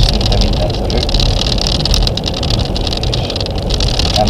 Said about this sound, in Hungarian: Mozog az egész autóban minden, úgyhogy amit zöröget rajta, most szinte minden zörög.